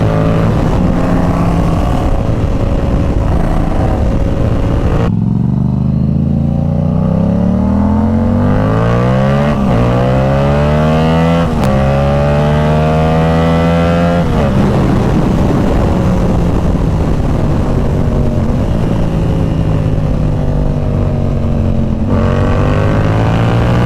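Heavily modified and tuned Yamaha R7 sportbike ridden on a public road, its engine droning loud and close throughout with repeated rising revs and gear-change sweeps over steady wind rush.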